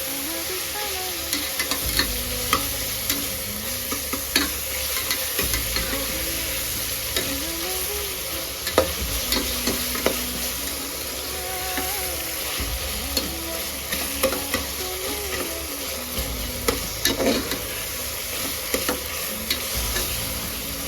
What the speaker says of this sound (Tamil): இப்போ தக்காளி வெங்காயம் நல்லா வதங்கிச்சு.